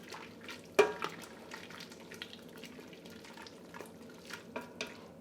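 Pickled onions and fresh thyme stirred into a vegetarian bourguignon, a soft wet stirring of thick stew with one sharp spoon knock at the start and gentle liquid squelches, quiet and close.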